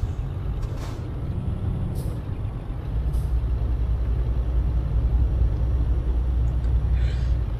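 Truck slowing down in Euro Truck Simulator 2 with air brakes, a steady low engine rumble throughout, brief hissing bursts of air release near the start, no talk.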